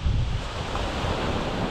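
Sea waves wash onto the shingle of Chesil Beach in Dorset on a cold evening, a steady broad surf roar mixed with wind buffeting the microphone.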